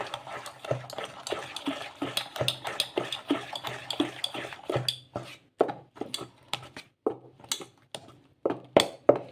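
A spoon stirs moong dal idli batter mixed with water and baking soda in a bowl, giving a run of close, rhythmic scraping and clinking strokes that become sparser and more separated toward the end, with no talk.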